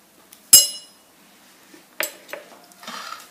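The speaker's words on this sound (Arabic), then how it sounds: "هنا نخلطوا التتبيله ديالنا" Marinade of lemon juice and olive oil is mixed in a bowl for a Moroccan Eid grill dish, with a sharp clink of a utensil against the bowl followed by softer scrapes and stirring; no speech.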